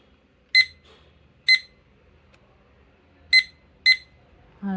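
A study timer app's alarm gives four sharp electronic beeps in two spaced pairs, clear and close in a quiet room.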